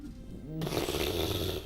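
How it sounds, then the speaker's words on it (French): A dog snores close by indoors, one rough, rasping breath swelling into a loud, sustained snore that fills most of the short stretch, with no one speaking. "si vous entendez ronfler, c'est le chien derrière"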